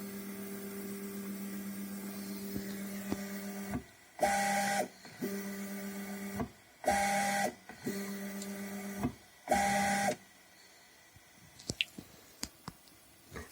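Stepper motors of a Creality K1-SE 3D printer homing its print head whine at steady pitches in alternating bursts, then fall quiet with a few small clicks at the end.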